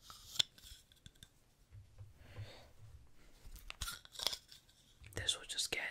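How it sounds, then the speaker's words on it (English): Scissors snip through hair during a close-up ASMR trim, giving several crisp, close clicks and snips spread unevenly, with soft whispering and quiet handling noises between cuts. "I'm gonna use some scissors."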